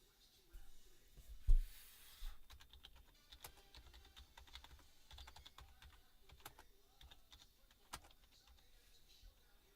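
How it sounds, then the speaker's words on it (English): Typing on a computer keyboard: a steady stream of soft, close key taps with a few louder thumps near the start, quiet and continuous with no speech over it. "Okay, I'm typing them in there."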